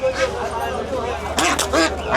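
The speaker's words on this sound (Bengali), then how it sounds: "এই পাশে হচ্ছে হাঁসের অংশ। এখানে প্রচুর হাঁস উঠছে আর কি। সব চীনা হাঁস" Chinese ducks for sale at a village bazaar quack in a couple of short bursts near the end, mixed with crowd chatter and a nearby voice talking throughout.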